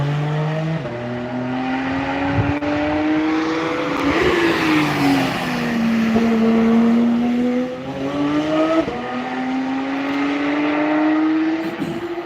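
Cars on a Nürburgring track day, engines droning and shifting gears with rising and falling revs as vehicles pass, loud and continuous with layered engine tones.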